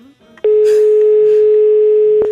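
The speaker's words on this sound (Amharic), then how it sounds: "ፍቅርተ ጌታውን ጋር እንደውልና ፕራንክ እናርጋት" Loud, steady telephone dial tone on a phone being used to place a prank call, holding unbroken for about two seconds after a short click, with faint background sounds.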